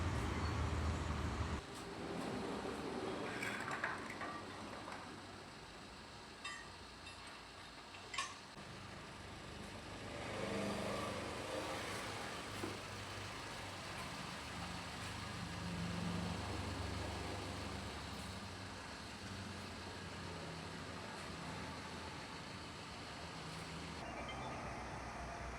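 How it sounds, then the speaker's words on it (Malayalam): A Maruti Suzuki Dzire on a test drive after maintenance work, with a steady low road and engine rumble running throughout, faint ticking and passing traffic noise, and no clear talk. "ഇനിയിപ്പോൾ ഒരു ടെസ്റ്റ് ഡ്രൈവിനായിട്ട് കൊണ്ടുപോവുകയാണ്."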